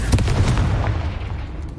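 The Confringo blasting spell in the video game Hogwarts Legacy erupts in a heavy close explosion, a deep booming burst with crackling debris that rumbles and decays over about two seconds.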